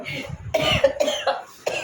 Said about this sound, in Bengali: আমার ভীষণ কাশি